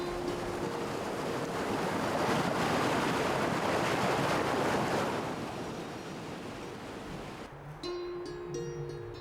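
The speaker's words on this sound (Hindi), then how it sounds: "अपने पथ पर निरंतर बहती जलधारा" A blue river stream flows from Tibet through dense forest to meet the Bhagirathi, making a loud, steady rushing roar of water that eases slightly before faint tonal notes enter near the end.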